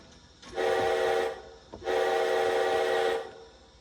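A Kato soundbox on a model railroad plays two long, loud steam whistle blasts, each over a second, separated by a short gap, with a faint mechanical hum underneath.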